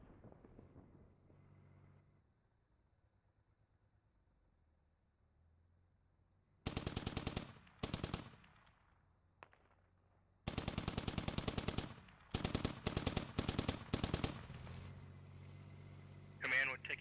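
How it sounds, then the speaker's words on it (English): Automatic gunfire in the military shooter game Squad cracks out in several loud bursts, some short and some sustained, between quieter stretches, while radio voices talk over the battle. "Taking shots to my west, north of my Charlie team."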